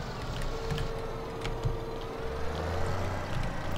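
Steady engine drone of a tractor driving in the Farming Simulator 17 video game, a continuous low hum with a faint tonal whine and no voices over it.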